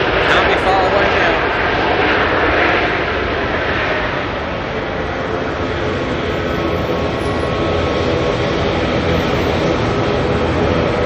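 Air New Zealand flight NZ102 from Sydney arriving at Auckland Airport, a loud continuous jet roar close by that swells early and then holds steady, with a voice briefly audible over it.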